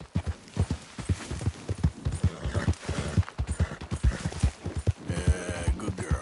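A horse's hooves beat in quick uneven clip-clop rhythm as it runs in a PS4 video game, close and moderately loud, with low thumping underneath.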